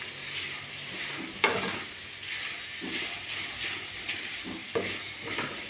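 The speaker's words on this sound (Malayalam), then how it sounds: "കൈ എടുക്കാതെ ഇളക്കിക്കൊണ്ടിരിക്കണം കേട്ടോ, അല്ലെങ്കിൽ പപ്പടം കരിഞ്ഞു പോകും." Potato and pappadam frying in a pan while being stirred, with a steady sizzle and hiss under scattered scraping stirs and a few sharper clatters of the spoon against the pan.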